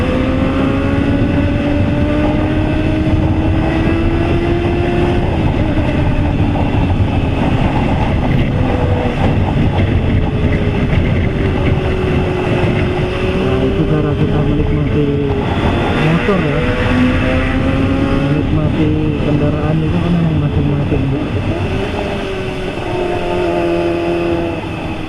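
A Kawasaki ZX-25RR sport motorcycle engine drones and revs continuously, rising and falling in pitch, loud and close throughout, with some speech mixed in.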